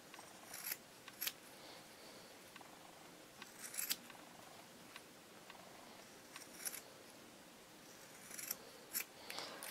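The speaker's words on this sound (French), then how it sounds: "ce que je vais faire maintenant, c'est couper les angles, puisqu'il va s'agir de retourner le tissu" Scissors snipping the corners of a sewn fabric patchwork coaster, heard as a few quiet, crisp cuts in short clusters spread through a hushed room, with no talking.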